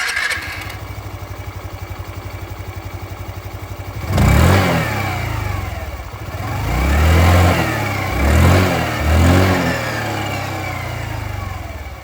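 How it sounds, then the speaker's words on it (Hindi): A 2025 Hero Xoom 125 scooter idles with a steady putter, then revs up in several throaty exhaust bursts before settling back to idle. "जो एग्जॉस्ट साउंड है वो भी आप लोग सुन लीजिए"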